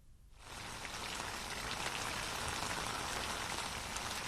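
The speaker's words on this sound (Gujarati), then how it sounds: "વરસાદી ઝાપટું પડ્યું, જેના કારણે વાતાવરણમાં ઠંડક છવાઈ ગઈ છે" Steady rain shower pouring down in a city district, a dense continuous hiss of drops on surfaces that starts abruptly and holds constant and fairly loud throughout, with no voices.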